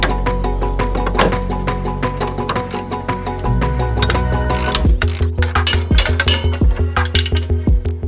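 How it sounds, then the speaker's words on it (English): A ratchet works suspension bolts loose on an Audi RS3, giving a rapid metallic clicking that turns into a steady, rhythmic run of ratchet strokes, close and loud. "What size ratchet you got there?"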